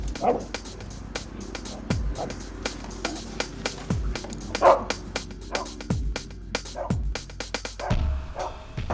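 A dog barks repeatedly at close range in sharp bursts, mixed with clattering and knocking noises throughout, during a burglary scene.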